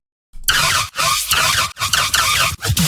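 A screechy, aggressive brostep synthesizer, loud gritty squealing bursts chopped into short rhythmic stabs with abrupt cuts, starting after a moment of silence.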